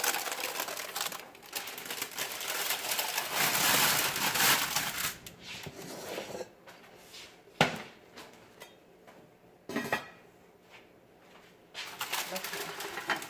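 Parchment paper crinkles and rustles as a home-baked loaf is lifted out of a Dutch oven, with dense close-up crackling for several seconds followed by a few sharp isolated handling noises and quieter scraping.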